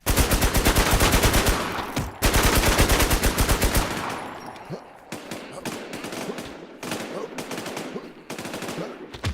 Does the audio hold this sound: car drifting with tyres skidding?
no